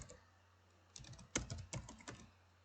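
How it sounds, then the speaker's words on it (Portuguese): Computer keyboard in a Word lesson, a few soft, close key taps clustered in a short burst over near silence, with one slightly firmer press among them. "Vou dar um Enter aqui."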